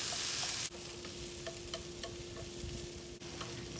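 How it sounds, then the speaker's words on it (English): Sliced bitter melon sautéing in a pan, with a steady close sizzle and faint stirring clicks and a constant hum underneath. "So you want to saute this until it's soft"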